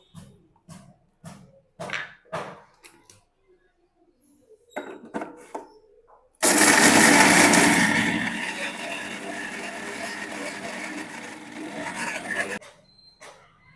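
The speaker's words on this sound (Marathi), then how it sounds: "आता आपण मिरची आणि लसूण हे मिक्सरमधून वाटून घेऊयात" A kitchen mixer grinder crushes green chillies and garlic with a loud, harsh whirring roar that starts abruptly, runs for about six seconds and eases slightly before stopping, preceded by clinks and handling sounds.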